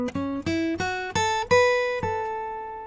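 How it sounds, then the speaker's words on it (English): Acoustic guitar plays a short blues phrase in the major pentatonic scale, a run of plucked notes with slides between them, ringing close and clear with no voice over it. "sliding into something called the major pentatonic scale"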